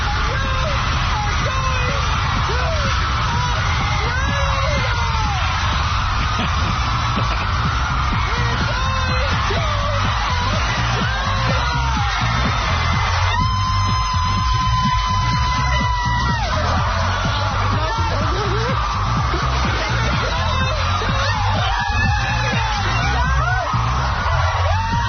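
A studio audience at Oprah's last show screams and yells without letup, a dense, loud roar of excited voices that swells in bursts over the full stretch.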